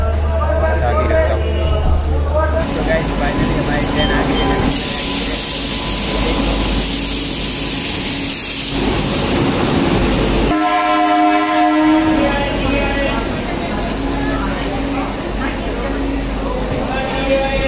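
Vande Bharat Express arriving at Ahmedabad railway station, with a loud sustained horn blast among the rolling rumble and clatter of the train, while people talk nearby.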